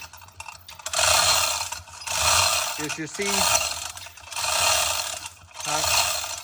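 Repeated metallic ratcheting bursts from a chain hoist lifting a strapped tire, several long rasping pulls in a steady rhythm, close and loud, with a brief voice speaking between them.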